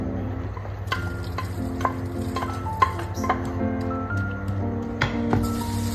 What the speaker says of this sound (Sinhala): මේ විදිහට හොඳට කලවම් කරගන්න